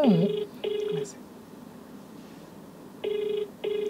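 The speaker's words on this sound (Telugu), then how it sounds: "లైవ్ లో కాల్ చేసి తను మాట్లాడుతుందో మాట్లాడదాం కాల్ చేయండి" A telephone call being placed, with repeated ringback tones in regular pairs, preceded by a short dialing chirp, heard clearly over a quiet room.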